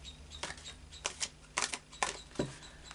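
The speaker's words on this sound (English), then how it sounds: "And we'll just do a little bit more of a shuffle." Tarot cards being shuffled by hand in a quiet room, a few distinct riffling bursts spaced irregularly with soft pauses between them, close and fairly faint.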